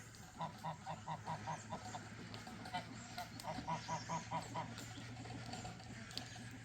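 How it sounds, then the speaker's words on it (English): Rhythmic bursts of honking from a group of geese, several quick calls in a row, then a pause and another series, fairly near. "Hello, gooses. Hello, gooses."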